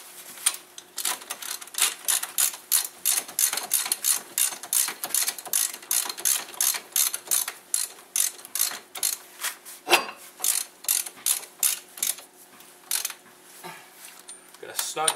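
Ratchet with a 13/16 socket snugging brake caliper bolts on a 2001 Dodge Grand Caravan, a rapid series of sharp metallic clicks in repeated bursts, close and loud with brief pauses between strokes.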